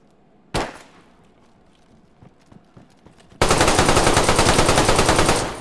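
A gunfight in the DayZ video game: a single loud shot rings out near the start, a few scattered faint pops follow, then a sustained rapid burst of automatic fire hammers on loud and close to the end.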